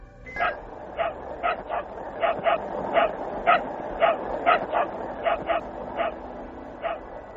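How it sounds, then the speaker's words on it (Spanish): An archival recording of the dog Laika barking from inside Sputnik 2: repeated short, sharp yips, roughly two per second, sounding thin and somewhat distant over a steady background hiss. "Escuchemos algunos de estos ladridos."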